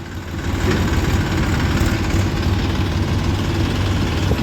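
A tractor engine runs steadily outdoors near a sugarcane field and sugar factory, a loud, close, low rumbling drone that holds constant throughout with no talk.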